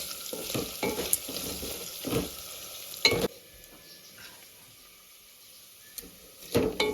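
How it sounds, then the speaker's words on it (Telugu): Ginger and garlic sizzle and fry in a pan while being stirred, with a steady crackling hiss broken by a few louder scraping stirs near the mic, then a quieter stretch of gentle frying. "రెండు కూడా పచ్చివాసన పోయేంత వరకు మనం వేపాలండి అల్లం కూడా వెల్లుల్లి కూడా పచ్చివాసన పోవాలి"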